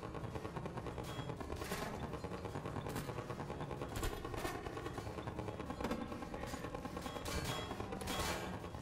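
In a Half-Life 2 Episode 2 mod, a turret fires at the player with a dense, continuous rattle of rapid shots that holds steady and loud for several seconds.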